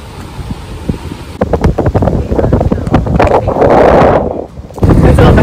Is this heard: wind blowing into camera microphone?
yes